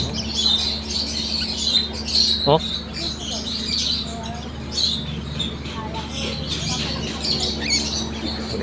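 Baby birds chirp and squawk in a small cage or nest with repeated high thin calls throughout, mixed with a brief sharp call, while a person talks nearby.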